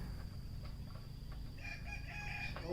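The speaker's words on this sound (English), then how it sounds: "the rooster, stop yelling." A pet rooster named Muffin crowing in a drawn-out call late on, fairly distant over a low steady background hum.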